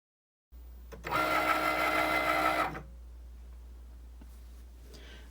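A Cricut cutting machine working premium vinyl on a mat with a fine point blade: a close, steady mechanical whir and buzz that runs for about two seconds over a constant low hum, then stops and leaves only the hum.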